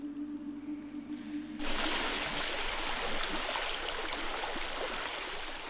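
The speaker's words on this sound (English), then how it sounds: "on the river, nature is coming to life as the fast-flowing water breaks through the icy crust" Fast-flowing water on the Berounka river breaks through its icy crust in a snowy winter setting, a quiet lead-in giving way to a loud, continuous rushing gurgle that fills the rest, with no voices.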